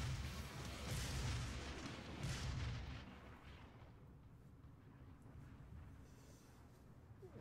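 Micro missiles fired repeatedly in the PC game DOOM, booming explosive blasts that come loudest in the first three seconds, then settle into a lower rumbling din of game combat with no talking.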